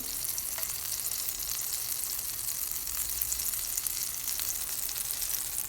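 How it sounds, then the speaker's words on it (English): Butter sizzling and crackling in a frying pan, a steady close-up fizz with faint pops and no speech. "Now take the same pan, add some butter"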